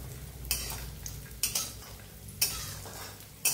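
Lentil bori dropped into hot mustard oil for a Bengali ridge gourd and poppy seed dish, giving a steady low sizzle with sharp clatters and stirring knocks at intervals.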